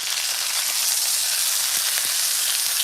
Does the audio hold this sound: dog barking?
no